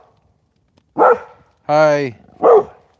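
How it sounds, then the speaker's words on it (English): Guard dog at a remote off-grid cabin in Alaska barking in the open, three loud bark bursts spaced about a second apart, with a brief spoken greeting. "the guard dog's going off."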